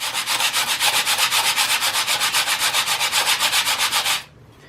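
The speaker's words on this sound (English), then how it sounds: "So we've got our higher grit right here. We're just going to rub this back and forth." The sole of a Stanley Corsair hand plane rubbed back and forth on higher-grit abrasive to flatten it, giving a steady, rhythmic rasp of roughly nine strokes per second. It is loud and close, with no talk, and stops abruptly near the end.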